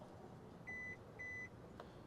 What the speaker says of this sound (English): we'll hold down the button and listen for the beeps